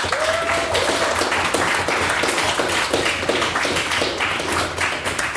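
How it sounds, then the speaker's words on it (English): A debate audience applauds steadily after a maiden speech, dense clapping from many hands that holds at an even level throughout, fairly close and loud. "can I please get another round of applause for another fantastic maiden speech?"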